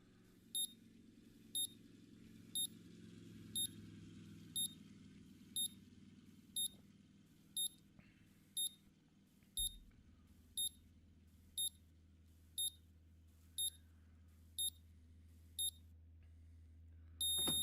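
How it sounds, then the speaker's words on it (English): An OBD scanner in the Car Mechanic Simulator 2021 game gives a steady series of about fifteen short, bright beeps, evenly spaced roughly once a second over a low background hum, with no speech. "let's bring out the OBD scanner, see if it tells me anything by chance."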